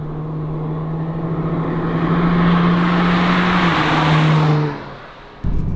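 Honda NSX hybrid supercar with a 3.5-litre V6 and electric motors accelerating hard on tarmac, a loud rising engine roar that holds for several seconds, then drops away before a brief burst returns.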